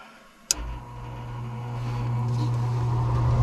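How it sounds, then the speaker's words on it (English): A furnace blower motor kicks on with a sharp click and then spins up into a steady hum that grows slowly louder during troubleshooting. "先试一下它那 blow motor 看转不转哈"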